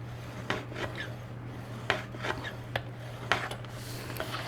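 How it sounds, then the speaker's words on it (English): Paper is scored along a fold line for an envelope, with a few distinct scraping strokes and soft taps spaced about a second apart over a faint steady hum. "I'm going to put my score in."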